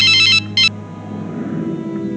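A telephone rings in two short electronic bursts, the first longer, then falls silent over a low background hum.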